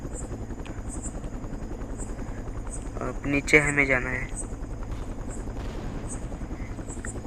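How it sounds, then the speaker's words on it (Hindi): A helicopter in a mobile police crime simulator game, its rotor chopping in a steady fast pulse throughout, with someone speaking over it partway through. "हेलीकॉप्टर जरा धीरे से चल रहा है।"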